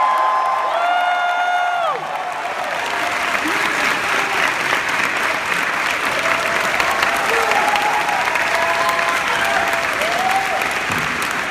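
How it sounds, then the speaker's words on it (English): A large audience at the Dragon Ball Z reunion panel at Salt Lake Gaming Con 2015 claps loudly and continuously for a voice actor, with scattered cheers and whoops and voices mixed into the crowd noise. "Give a round of applause for our first guest here."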